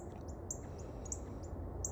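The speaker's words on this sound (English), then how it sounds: "Listen to the birds." Birds chirp outdoors in short, high, repeated calls spread evenly over a quiet bed of low background noise, faint and somewhat distant.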